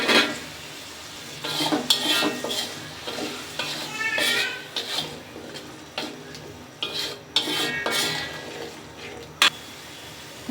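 Potatoes stir-fried with ayer fish in a pan for a Bangladeshi fish dish: repeated scraping stirs and utensil knocks over a continuous soft sizzle, close and fairly loud, with no talking.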